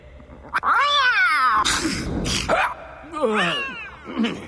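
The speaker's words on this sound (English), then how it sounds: "Cat." Cat meowing repeatedly and loudly nearby in a castle setting, several drawn-out rising and falling meows with a brief sneeze-like burst between them.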